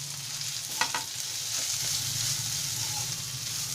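Onion, garlic and chili frying in a pan for Bihari-style aloo kumhrauri, a soft steady sizzle with a couple of brief stirring knocks early on, close and unaccompanied by speech.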